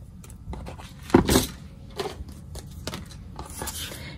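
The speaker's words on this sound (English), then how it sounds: "Now I'm going to take my scissors and just remove the extra." Scissors trimming excess cardboard from a milk carton in a craft project, with a few crisp snips and rustling handling noises close by, the loudest cut near the middle.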